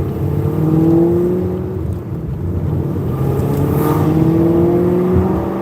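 A deep, throaty engine with a full exhaust rumbles steadily close by, with its pitch rising and falling as it revs and eases off under a constant whirring drone.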